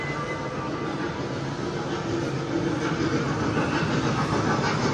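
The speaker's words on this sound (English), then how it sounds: "Oh, the train over here, y'all." A steady, loud rumble of a train rolling past close by in Tysons Corner, with rail noise that swells slightly partway through and stays continuous throughout.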